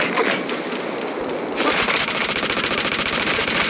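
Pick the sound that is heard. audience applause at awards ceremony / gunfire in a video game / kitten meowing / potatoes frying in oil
gunfire in a video game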